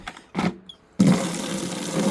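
Water gushes loudly and steadily into a bucket from a tap for rinsing, after a brief splash and a short pause, filling it with a continuous close rushing sound.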